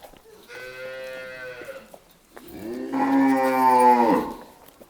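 A heifer moos twice nearby at a cattle fair, a shorter low call followed by a longer, louder drawn-out moo.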